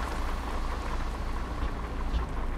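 Steady rain at the strongest setting in Euro Truck Simulator 2, heard from inside the truck cabin with windows closed: a continuous dense hiss and low rumble throughout, with no talk.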